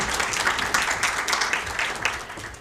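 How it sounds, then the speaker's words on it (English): Audience applause at an AI labour town hall in Kenya, a dense patter of many hands clapping steadily throughout, fairly close and loud. "A round of applause for AI Kenya."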